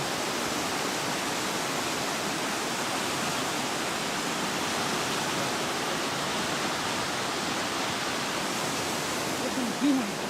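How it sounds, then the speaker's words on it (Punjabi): Constant loud rushing of fast-moving floodwater, a dense unbroken roar filling the whole stretch with no talking. "ਪਾਣੀ ਬਹੁਤ ਹੀ ਤੇਜ਼ ਮਾਤਰਾ ਨਾਲ ਚੱਲ ਰਿਹਾ"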